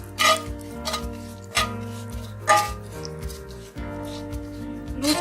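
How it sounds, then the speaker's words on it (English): A utensil scrapes and knocks against a pan while bay leaves, whole dried red chilies, cumin seeds and kalonji are stirred, giving a few sharp metallic clinks spaced irregularly over quiet scraping. "Give it a stir."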